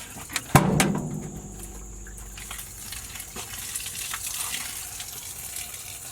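Coolant splashes onto the ground from a radiator as it is pulled out of a vehicle, an abrupt splash followed by a soft, steady trickle and gurgle, close but fairly quiet.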